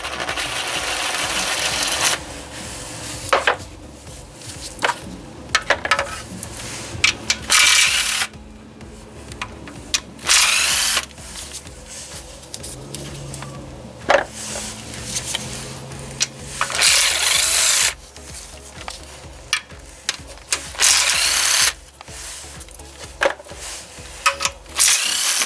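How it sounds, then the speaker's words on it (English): Oil pan bolts on a Kia 1.8/2.0 Nu engine are backed out with a 10mm socket, with repeated bursts of ratchet or power-tool whirring and clicking broken by short pauses and clanks, close and loud, with no speech. "All the bolts will need to be removed with a 10mm socket now, the ones that surround the oil pan."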